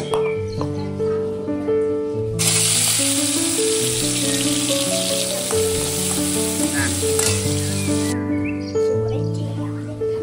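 Loud, steady sizzling of bharta ingredients frying in hot oil fills the middle of the clip, with music playing throughout underneath.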